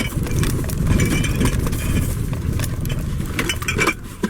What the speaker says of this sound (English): Ginger beer is rattling around.